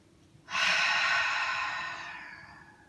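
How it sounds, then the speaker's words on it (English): A person takes one slow, long breath in through the nose during a relaxation exercise, a close, airy hiss that starts suddenly, stays loud and then gradually fades over about two seconds, with no talking. "Breathing in through your nose."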